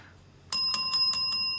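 A bicycle bell rings in a quick burst of five bright metallic dings after a moment of near silence, close and clear, at a cars and coffee meetup.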